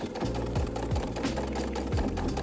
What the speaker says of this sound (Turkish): Ve yine ikinci bir dikiş geçiyoruz.